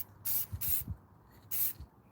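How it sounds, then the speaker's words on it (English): A spray paint can sprays paint onto a plant in three distinct hissing bursts. Two come close together and the third follows after a short pause. Each burst is loud and close, with faint handling noises between them and no talking. "I spray painted the plant."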